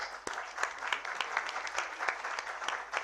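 Applause from attendees at a cardiology conference in Bhourban, a moderate crowd clapping steadily with distinct individual claps popping out in an uneven rhythm throughout.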